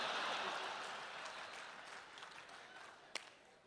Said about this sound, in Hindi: समापन पर भरपूर तालियां बजा देना